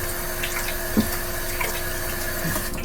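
Tap water runs steadily into a sink as hands are washed underneath, a continuous close splashing stream with a brief knock of movement partway through.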